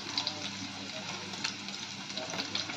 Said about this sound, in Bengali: ততক্ষণ আমরা পনিরটা ভেজে নিই